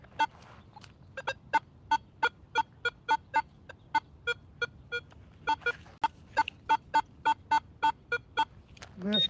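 Metal detector giving a run of short, evenly spaced chirping tones that resemble a clucking chicken, steady rhythm with a brief pause midway, over low background hum while detecting a site with foil.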